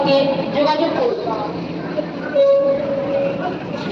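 Train noise rumbles at Howrah railway station, a busy platform in Kolkata, with a steady horn-like tone sounding twice across the few seconds, while people talk nearby over the constant din.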